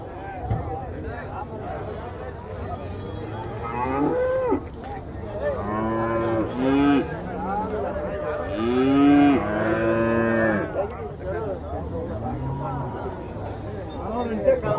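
Cattle low repeatedly at a busy livestock market in Chintamani, Karnataka, the moos coming one after another, some near and loud and some farther off, over a steady background of crowd chatter and market noise.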